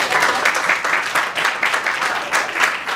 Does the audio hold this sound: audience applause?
yes